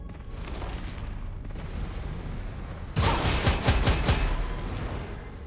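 Grenade explosions in the shooter game Gunfire Reborn burst suddenly after a quieter stretch, a loud cluster of booms and blasts following in quick succession, with no talking over them.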